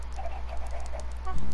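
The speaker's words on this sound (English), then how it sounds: "Now I'm going to get these XL chickens right here." Chickens in Minecraft give a quick series of short clucks, close and fairly clear, over a low steady background hum.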